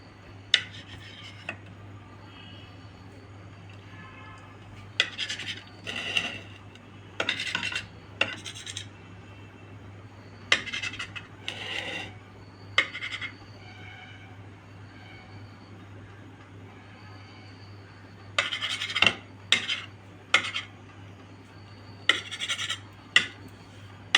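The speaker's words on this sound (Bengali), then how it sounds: "এখানে ম্যাঙ্গো জেলিটা আমি একটু ছোটো ছোটো করে কেটে নেব" A knife cuts mango jelly into small pieces. There are repeated short, raspy slicing strokes in separate clusters over a steady low hum, and no talking.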